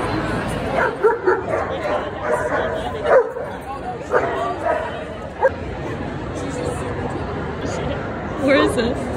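A small, excited chihuahua in a busy outdoor market setting yips, barks and whimpers in short, repeated bursts close by, with a person talking over it.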